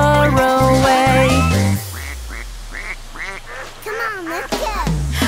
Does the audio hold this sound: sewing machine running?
no